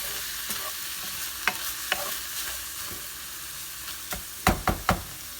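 Homemade taco filling simmers and sizzles in a pan on low heat, a constant soft frying hiss broken by several sharp spoon scrapes and knocks against the pan, close and alone.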